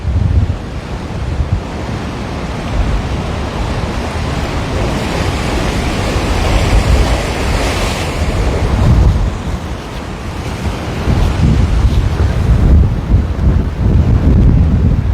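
Ocean surf at Waikiki, Hawaii, near Diamond Head, rolls and crashes continuously against a wall with heavy wind buffeting the microphone, surges building louder toward the end.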